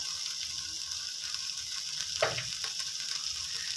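Stink beans and fresh shrimp stir-fry with shrimp paste, oyster sauce and a splash of water in a pan, a faint steady sizzle broken by a single spatula scrape partway through.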